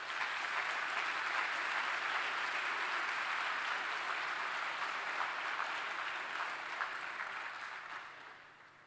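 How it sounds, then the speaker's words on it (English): An audience applauds at a Formula SAE Michigan public design review, with steady, sustained clapping from a crowd that fades slightly toward the end. "let's hear a round of applause for ETS"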